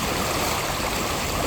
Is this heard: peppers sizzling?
no